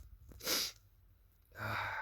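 A single loud, close sneeze bursts out alone after a soft intake of breath, followed by a brief sniff or exhale, from someone who has spent six hours working in the yard.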